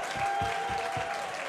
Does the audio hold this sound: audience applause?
yes